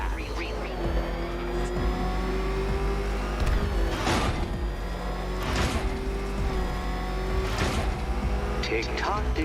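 Batmobile engine roaring at speed in a Batman video game, loud and continuous with rising revs and tire noise, under game voice-over and music.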